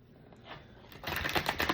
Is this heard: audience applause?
no